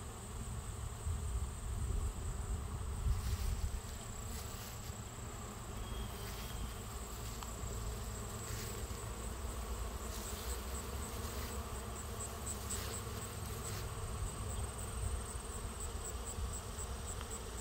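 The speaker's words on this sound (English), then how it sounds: "the bees are very busy" Bees buzz steadily around a hive, a dense continuous hum with individual insects zipping close past now and then.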